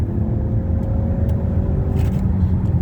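A car engine runs at full throttle during a transmission flush test drive, a loud, steady, close rumbling drone with no pause.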